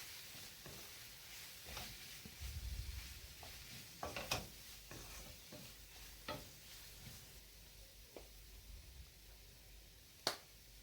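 Fried prawns and spices are stirred in a pan for prawn thokku, giving a faint, low sizzle under intermittent scraping and tapping of a spoon against the pan, with a sharp clack near the end.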